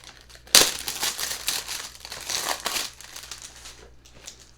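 Plastic wrapping on a chocolate subscription box crinkles close and loud, starting abruptly and rustling in continuous bursts before fading to softer handling.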